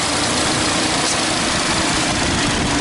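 On a Nissan NV200, both radiator cooling fans whir steadily beside the idling engine, a constant loud, broadband rush with no breaks.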